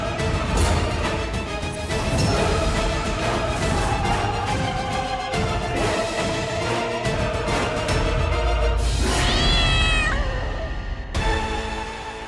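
A cat meows under a loud, continuous dramatic music score in a TV drama scene, the drawn-out cry rising and bending near the end of the passage.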